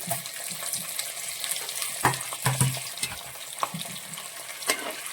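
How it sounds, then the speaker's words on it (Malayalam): Coconut pieces frying in hot oil give a steady, close sizzle with soft stirring scrapes and a few sharper clinks from a spoon against the pan. "എടുത്ത് വെച്ചിരിക്കുന്ന തേങ്ങ കൂടി ഈ എണ്ണയിൽ വറുത്തെടുക്കുവാണ്"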